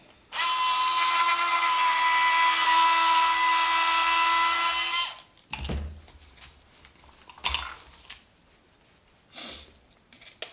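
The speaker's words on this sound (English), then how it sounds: "and I do it with the drill" A power drill whines steadily at high pitch for several seconds while cleaning old oil and grease from the differential parts of a Mugen MBX8R Eco RC car, then stops; scattered clanks and handling knocks of metal parts follow.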